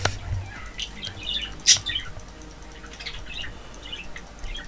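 A pet parrot gives a few scattered squawks and chirps indoors, with one sharp loud call standing out among softer intermittent calls over low room noise.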